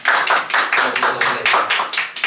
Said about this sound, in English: Everyone give him a little clap.